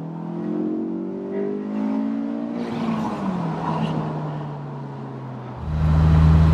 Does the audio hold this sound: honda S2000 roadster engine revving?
yes